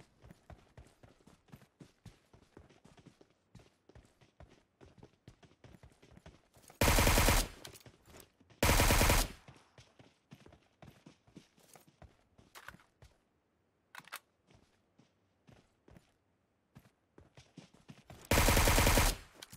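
Gunfire in the mobile game PUBG Mobile on the Sanhok map: rapid patter of footsteps with scattered shots, broken by three loud sustained bursts of automatic fire, no voices.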